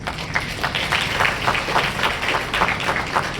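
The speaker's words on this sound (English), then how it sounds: "A round of applause." An audience at a hospital milestone event for robotic gynaecological surgery applauds a group of women; quick, fairly close clapping with a rhythmic, patterned pulse over a few seconds.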